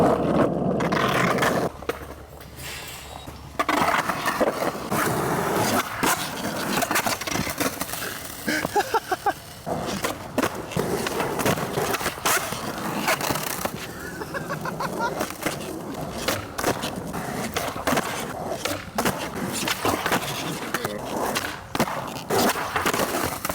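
Skateboard wheels roll and scrape over a cold outdoor tennis court during flat ground tricks, with rumbling rolls broken by repeated clacks and board impacts, loud and close, with a little talk here and there.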